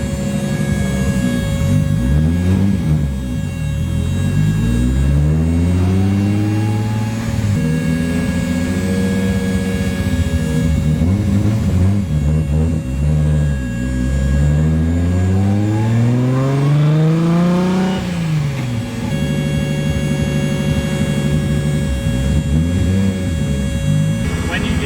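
A 700 whp RB26-powered Datsun 240Z accelerates hard, its engine note rising through repeated revving sweeps and gear changes, loud and close from inside the car, with voices talking over it at times.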